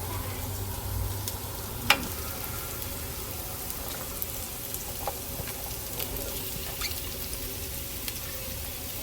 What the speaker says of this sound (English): So that's when I'm gonna add my onions.